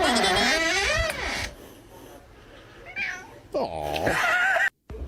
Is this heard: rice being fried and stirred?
no